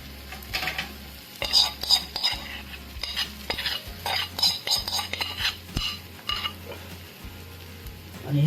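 Besan batter spread across a hot oiled pan sizzles steadily, with repeated scraping and tapping strokes of a spoon or ladle against the pan over a low hum.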